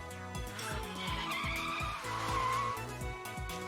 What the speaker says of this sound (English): Just then, the sound of a braking bicycle comes from downstairs.